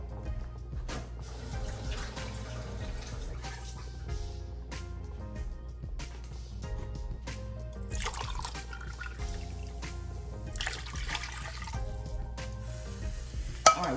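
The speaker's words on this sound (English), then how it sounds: "get this right here just covered with water" Water is poured into a pot over a stovetop beef pot roast, giving quiet, intermittent splashing and trickling close by with scattered clinks from the pot.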